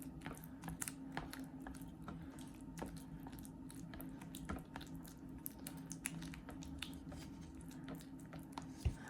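Soft wet squelching and sticky squishing as a thickening cookie dough mixture is stirred, irregular and close, faint under a low background hum.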